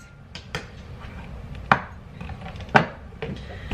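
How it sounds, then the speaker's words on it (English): A knife cuts garlic cloves on a board, giving a few scattered taps and two sharper, louder knocks against a low kitchen background, with nobody speaking. "I am going to cut up probably a clove or two of garlic and add that in."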